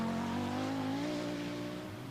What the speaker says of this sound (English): The bearded Swedish veteran Per Eklund in his long wheelbase Audi Quattro.